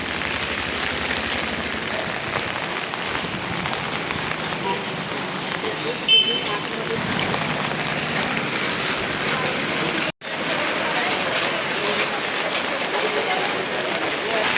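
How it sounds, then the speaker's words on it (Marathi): Rain falls steadily in Pune during the monsoon's arrival, with gusty wind. A dense, even hiss continues throughout and cuts out briefly near the end. "इकडे तिकडं पाऊस वाढलेला आहे."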